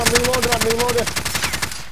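Rapid automatic gunfire in Call of Duty Warzone, a loud, evenly spaced burst of close shots lasting about two seconds before cutting off, with a brief tonal game sound mixed in early.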